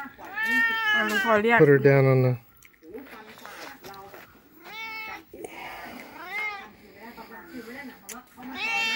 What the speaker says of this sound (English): She's a whiny old lap cat though.